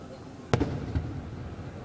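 A single sharp firework bang pops nearby during a Fourth of July display, followed by a softer crackling burst, with faint ambient noise around it.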